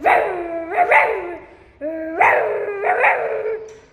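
Someone imitates a big dog barking, drawn-out yowling barks in two bursts with a short pause between, loud and close.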